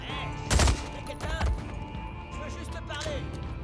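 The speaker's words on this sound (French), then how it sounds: "Plusieurs coups de feu ont été tirés." Gunfire in the video game Days Gone: a loud burst of several sharp shots followed by more scattered shots at moderate level, over busy game ambience with a voice speaking in the background.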